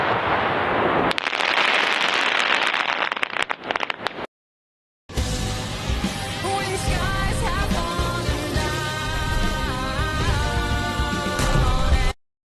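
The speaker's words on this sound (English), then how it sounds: "This is so many fireworks" Bonfire night fireworks going off, a dense loud burst of crackling pops, a brief silence, then a long stretch of continuous bangs and crackles.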